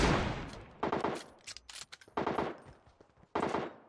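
Automatic gunfire in the mobile battle royale PUBG Mobile, several loud bursts of rapid shots separated by short pauses, with no talk over them.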